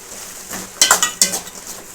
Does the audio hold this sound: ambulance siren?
no